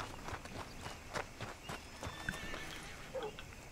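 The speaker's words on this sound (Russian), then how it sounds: "Вези меня, лошадка." A ridden horse in Red Dead Redemption II trots along, hooves clopping in a quick, uneven rhythm, close and moderately quiet, with a brief snort or whinny near the end.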